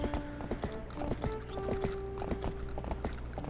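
Epona, a horse in the video game Zelda Twilight Princess HD, clip-clops at a steady trot, hoofbeats repeating rhythmically under layered game music with no talk.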